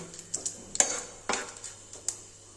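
Fish head and spices fry in a pan: a faint steady sizzle broken by a few sharp clinks and scrapes of a utensil stirring against the metal, close and quiet with no voices.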